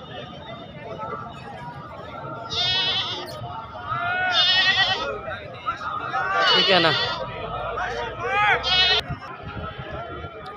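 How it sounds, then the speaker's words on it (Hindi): A black Beetal goat at a livestock market gives several loud, wavering bleats in quick succession, close by over market background noise, with someone speaking briefly in between. "चेक करो जी माशाल्लाह, ब्लैक बीतल बकरा"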